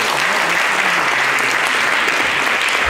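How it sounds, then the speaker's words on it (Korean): An audience at a Daegu National University of Education presidential candidate debate gives the candidates a dense, loud burst of clapping, steady throughout. "한번 큰 박수로 한번 보내주십니다"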